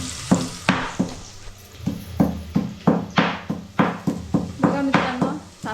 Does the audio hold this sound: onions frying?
yes